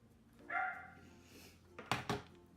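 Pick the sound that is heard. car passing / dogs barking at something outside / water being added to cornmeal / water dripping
dogs barking at something outside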